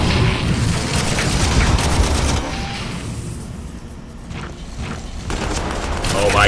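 Booming explosions and bursts of gunfire pound an assault squad in the Warhammer 40k Armageddon strategy game, loud and dense for the first seconds, easing back, then swelling again toward the end.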